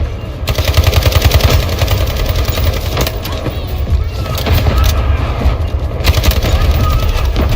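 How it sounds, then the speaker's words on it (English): An artillery barrage in Minecraft pounds away as rapid, continuous bursts of gunfire-like blasts, loud and dense throughout, with voices talking over the bombardment. "Artillery barrage incoming."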